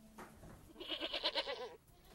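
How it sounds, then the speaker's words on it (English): A goat bleats once, close and clear: a single wavering, vibrato-laden cry lasting about a second against a quiet background, with no talk. "That's a mighty fine goat you got there."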